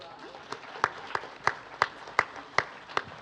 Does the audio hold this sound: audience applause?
yes